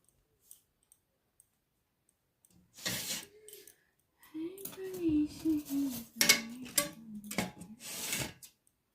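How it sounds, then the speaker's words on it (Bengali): A spoon taken out among dishes and cutlery, with a few sharp clinks and metallic rattles after a quiet start, scattered and close, with brief voice sounds mixed in. "একটা চামচ বের করে নিই"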